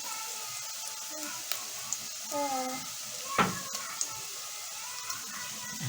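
Dried coriander dropped onto garlic frying in a pan, a soft continuous sizzle with a brief louder flare, scattered light clinks and a voice murmuring faintly underneath.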